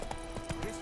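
The horse Roach gallops in The Witcher 3, its hooves clip-clopping in a quick, fairly quiet rhythm during a very brief moment.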